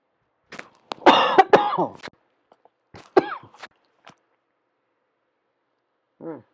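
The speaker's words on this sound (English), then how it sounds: "I still have the cough from this cold that I've been fighting." A person with a cold coughs in a few harsh bursts, then a couple more scattered coughs follow, close and dry, with silence in between.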